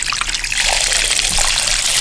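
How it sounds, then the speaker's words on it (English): Water streams steadily into a container to submerge a fishing reel for a salt-removal soak, a loud, continuous close-up trickle and splash with no pauses. "you want to fill it up to where the reel is completely submerged underwater"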